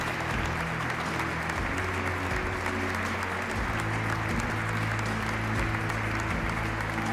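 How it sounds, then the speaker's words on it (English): A live audience at a sustainable cooking competition grand final claps steadily as guests join the stage, dense and even applause with a low musical bed underneath and no pause. "please give them a huge round of applause"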